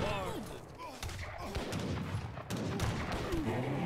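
Organ guns fire in the Age of Empires III video game amid battle noise, with rapid overlapping gunshot bursts and cannon-like booms, dense and continuous, while a voice talks over the action.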